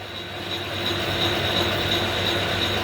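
A vintage metal lathe running in a workshop with its carriage moving, a steady mechanical hum with a constant high whine, close and even throughout, with no talking.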